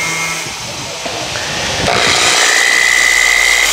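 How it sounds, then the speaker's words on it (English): A power drill whirs up and runs steadily at close range, a continuous buzzing motor tone that grows louder partway through, with a sharp knock just before it rises. "You know how to turn the drill on."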